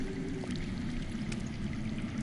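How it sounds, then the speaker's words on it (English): Underground water flowing in a Game of Thrones video game, a steady, muffled rush like a stream or pouring flow, continuous and moderately distant with no talk. "I hear water. From underground."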